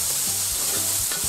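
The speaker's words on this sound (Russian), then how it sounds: "Грибы жарятся на очень раскаленной сковородке." Mushrooms fry in a very hot pan, giving a loud, dense, continuous sizzle with a roaring hiss and faint stirring scrapes, close up and without any voices.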